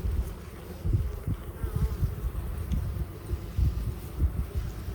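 Honey bees drone at an open hive during a colony split, a close, continuous low buzz with swelling pulses as insects pass near, over faint rustling and with no talking.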